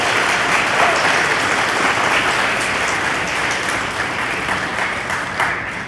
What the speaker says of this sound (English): Let's give him one more big round of applause.